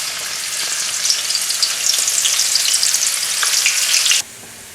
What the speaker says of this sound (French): nous allons faire frire notre échalote